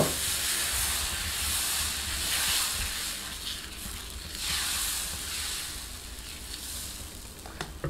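Brahmi leaf dosa batter sizzles on a hot pan, giving a steady, broad hiss that swells and eases slightly over several seconds, close and fairly loud, with no talking.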